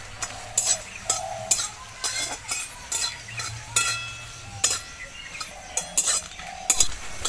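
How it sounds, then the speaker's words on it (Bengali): Dry red chillies stirred in a dry wok, a metal utensil scraping and clinking against the pan in a steady repeating rhythm, close and fairly loud, with a faint sizzle underneath. "লঙ্কাটা একটু লাল করে আমি শুকনো কড়াইয়ে নেড়ে নেব"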